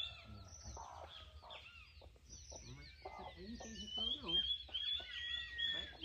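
A hen clucks and squawks in agitated bursts, with chicks peeping high and thin, while a person talks nearby, as her chick is being taken from her.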